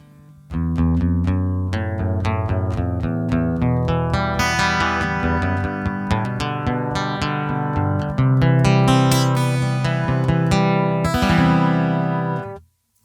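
Acoustic guitar through a Laney A-Solo acoustic combo with only a touch of chorus, strummed chords and single notes ringing close and full for about twelve seconds before stopping abruptly.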